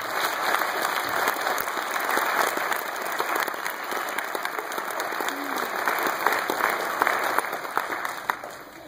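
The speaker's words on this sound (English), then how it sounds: "Let's give us all a big round of applause, shall we?" Audience applause fills a high school Christmas concert hall, a steady dense clapping from a large crowd that holds evenly for about nine seconds without voices over it.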